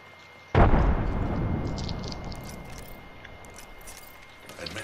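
A frag grenade goes off in Apex Legends: one sudden loud blast half a second in, then a long rumbling decay that fades over several seconds, with faint game effects afterward.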